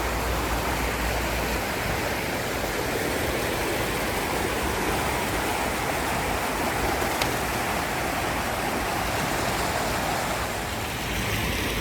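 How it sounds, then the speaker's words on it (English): The Clackamas River flowing toward fish hatchery ladders, a continuous roaring wash of moving water, steady and fairly loud, with no voices over it. "And here the river leads to the ladders of the fish hatchery."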